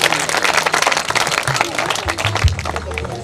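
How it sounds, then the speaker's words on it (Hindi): Vigorous audience clapping at a school annual function, loud and close with distinct individual claps in the mix, while voices and low hum sound underneath. "तो इनके लिए जोरदार तालियां हों"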